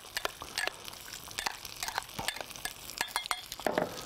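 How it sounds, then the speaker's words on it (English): A spoon stirs a marinade of rice vinegar and gourmet fish seasoning in a bowl, giving quiet, close, irregular scraping and liquid clinks and taps scattered through the stretch, with no talking. "And then I'm just gonna give this a little stir."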